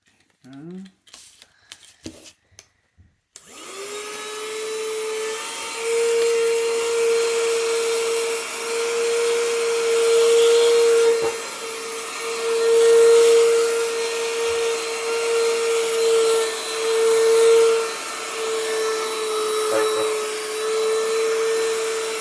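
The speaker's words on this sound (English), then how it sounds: "This is 3-in-1 vacuum cleaner." A few clicks and handling noises, then a cordless 3-in-1 vacuum cleaner starts and runs with a steady high-pitched motor whine, close by and unbroken.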